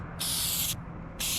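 Etch primer sprayed from an aerosol can onto a BMW E90's damaged car paint during a DIY repair: two hissing bursts, a long near one followed by a short one after a pause, with no talking.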